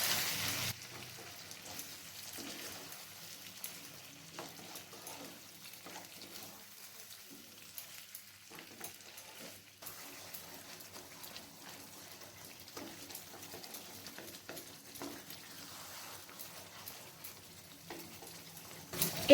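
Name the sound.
chicken frying and being stirred with onion paste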